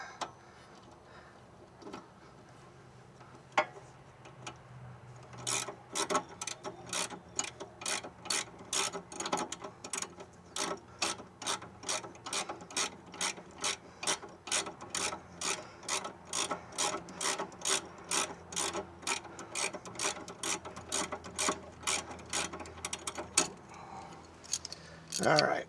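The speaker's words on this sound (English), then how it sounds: "I can actually go to that ratcheting socket and remove that a lot quicker." Rapid ratcheting clicks from a ratcheting socket spinning off a car's sway bar link nut, a long steady run of sharp, close ticks with a brief stop partway, with faint background noise.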